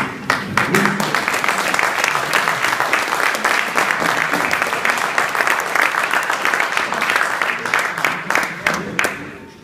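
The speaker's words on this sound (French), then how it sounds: "moi je voudrais qu'on applaudisse ces jeunes femmes" Sustained audience applause at a farewell gathering for a tourism office, loud and continuous with distinct individual claps standing out over nearly ten seconds.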